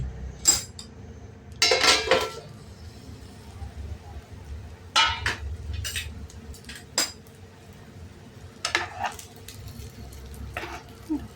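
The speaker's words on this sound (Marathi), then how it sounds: "आता आपण झाकण काढून बघूया" Metal lid lifted off a pan of bitter gourd cooking in spiced oil, with several clanks and clinks of metal against the pan spread across the stretch, over a faint low background.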